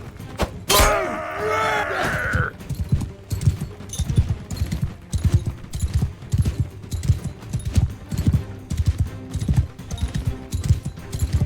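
Hooves of a galloping horse in the medieval battle game Mount & Blade II Bannerlord thump in a steady rolling rhythm, with a brief whinny or voice near the start and dull impacts scattered through.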